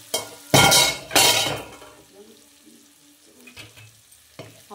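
Eggs hit a hot pan with two loud bursts of sizzling, then settle into a quieter crackle with occasional clinks of a utensil against the pan.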